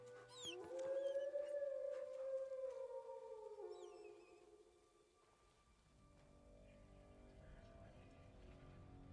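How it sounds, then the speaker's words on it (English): A dog in the video game Kingdom Come: Deliverance II gives a long, loud howl that slides and wavers, then fades into soft whining over steady rain-like ambience. "Good boy. That's my dog."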